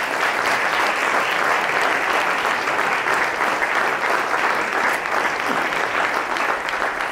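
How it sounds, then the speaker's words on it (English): Loud, sustained audience applause for John and Connie Curran at a celebration event, a dense continuous roar of many hands clapping that stays at full strength from start to finish. "So let us applaud them, please."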